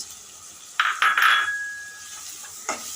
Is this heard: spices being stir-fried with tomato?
yes